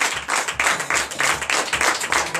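A church congregation at a Sunday service in Benin claps rhythmically in praise, loud regular bursts of synchronized clapping about every half second, with murmuring voices underneath.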